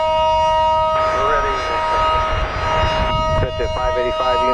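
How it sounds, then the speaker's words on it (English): Warning siren at Dallas Love Field airport, a sustained steady tone blaring loudly throughout while a radio voice speaks over it near the end. "Another warning siren."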